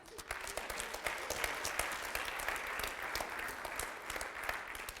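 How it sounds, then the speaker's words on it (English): A crowd at a startup launch event applauds in a steady, sustained wash of clapping, evenly loud throughout with no voices standing out. "a big round of applause for you"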